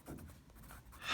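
A pen writes briefly on paper, a short, faint scratching stroke that grows slightly louder at the end.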